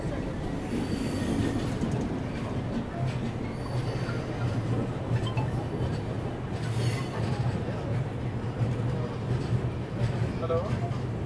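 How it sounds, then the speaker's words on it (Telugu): A passenger train, the Vizag–Kadapa Tirumala Express, rolls into Rajahmundry railway station, with a steady low rumble of wheels and carriages and occasional squealing from the rails throughout, heard from onboard at close range. "మన ట్రైన్ రాజమండ్రి రైల్వే స్టేషన్కి ఎంటర్ అవుతున్నది"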